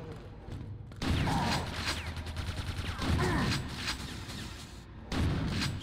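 Rapid bursts of weapon fire from the Quake II game, loud close volleys in three main waves with mechanical clatter between them.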